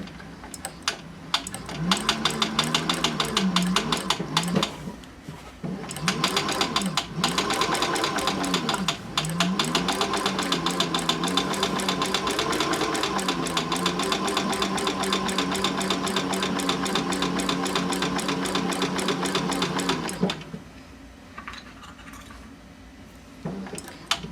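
A sewing machine stitching leather on a tote bag made from upcycled jeans, running fast and close in long bursts of rapid rhythmic needle strokes with a few brief pauses, then stopping.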